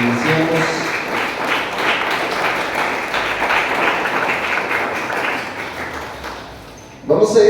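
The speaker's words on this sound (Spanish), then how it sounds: "Denle un aplauso al Señor" Church congregation clapping steadily for the Lord after a prayer, a dense continuous patter filling most of the stretch, then fading before a louder burst of voices and movement at the end; talk mixes in.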